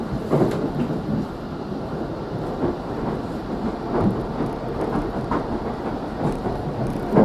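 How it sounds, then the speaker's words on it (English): A GO Transit train, number 3725, rolls over jointed rail into St. Mary's Station, giving a steady, loud rumble inside the car with repeated clacking thumps from the rail joints and no talk. "We're back on jointed rail as we are now rounding the corner and entering St. Mary's Station"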